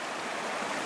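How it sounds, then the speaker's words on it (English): Fast-flowing water in a trout river, a dense steady rushing wash heard close by, with no voices. "So now I've reached this fast water here now."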